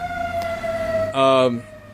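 A fire truck siren holds a steady tone, then a louder, brighter blast cuts in briefly before the sound drops back.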